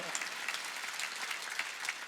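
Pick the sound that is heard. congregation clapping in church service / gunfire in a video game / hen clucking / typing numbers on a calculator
congregation clapping in church service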